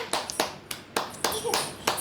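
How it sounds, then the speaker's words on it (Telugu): Family members clap their hands at a home birthday celebration for a husband, about seven sharp, close claps spaced unevenly across two seconds. "క్లాప్స్ కొట్టు డాడీ క్లాప్స్ కొట్టు మమ్మీ క్లాప్స్ కొట్టు"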